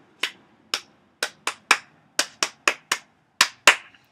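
Eleven sharp hand claps at cheer practice in a loose, slightly uneven rhythm, close and crisp with silence between them.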